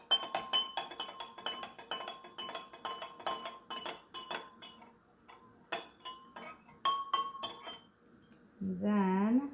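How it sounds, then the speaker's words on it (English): A spoon stirs food coloring into a crystal-making solution in a glass container, giving rapid, rhythmic clinks and taps against the glass close by, followed by a short stretch of speech at the end. "I'm going to just put a little food coloring in there and stir that in"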